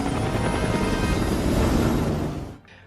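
Bomber aircraft attacking in a film, a loud continuous roar of engines and rotor-like thrum that holds steady for over two seconds, then cuts off abruptly.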